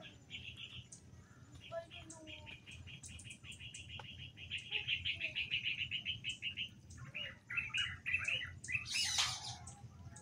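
Several birds chirp and trill in rapid repeated phrases over a quiet background hum, some calls closer and louder, with occasional distant voices.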